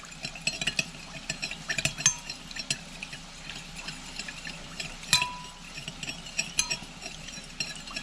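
A spoon stirs a pot of cooked wild greens gathered from a creek, with soft scraping and occasional light clinks against the pot, close up and fairly quiet, no voices.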